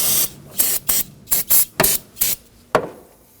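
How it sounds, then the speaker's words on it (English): Brake cleaner sprays in short, sharp hissing bursts onto the brake master cylinder area of a 2009-2014 Ford F-150, about eight quick puffs close by with brief pauses between. "Now we can go ahead and use a little bit of brake clean to clean up this area."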